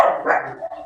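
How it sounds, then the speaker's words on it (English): A dog barks once, close and sharp, the single bark fading quickly into a short whimpering tail. "Oh, excuse my dog."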